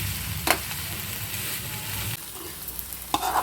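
Amaranth leaves and onion fry in oil in a pan with turmeric and salt, sizzling steadily up close with a few sharp stirring clacks, the sizzle easing partway through, and no talking.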